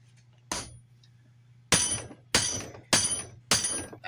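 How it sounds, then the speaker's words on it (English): Sharp metallic hammer blows on a trailer wheel bearing: one strike, a pause, then four evenly spaced hits in quick succession over a low steady hum. "Okay, let's get a bigger hammer."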